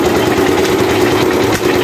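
Engine on an abaca fiber stripping machine running at idle, a loud, steady low rumble with continuous vibration and no pauses.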